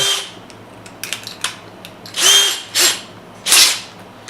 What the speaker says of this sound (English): you take this thing and you chuck it up in your drill